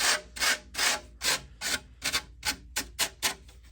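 A red abrasive tool is rubbed back and forth along a workpiece's edges to clear off burrs, making about a dozen rhythmic, close, hissing scrubbing strokes with no talk.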